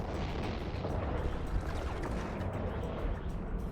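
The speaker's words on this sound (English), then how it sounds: "I say as I get hit by a giant missile" A giant missile slams into the player's ship in EVE Online, a dense, sustained low rumbling blast with crackling texture that rolls on without a break, fairly faint and with no talk over it.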